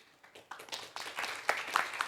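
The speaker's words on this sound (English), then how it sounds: "a huge round of applause for staff" An audience at a branch event breaks into applause for the staff, beginning with a few scattered claps that quickly swell into fuller, denser clapping.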